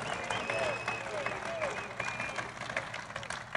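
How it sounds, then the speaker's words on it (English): A rally crowd chants and cheers a politician's name, Lou, at a Trump rally in Old Forge, Pennsylvania, a steady loud roar of many voices filling the space, with rhythmic shouting and applause-like texture throughout. "they're shouting Lou. They're not booing."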